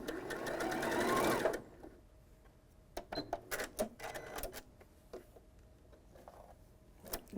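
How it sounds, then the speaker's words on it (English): A sewing machine stitches a quilt block in one steady, loud burst that lasts about a second and a half and then stops. Soft clicks and handling noises follow in the quiet afterward. "So I'll see you at the sewing machine."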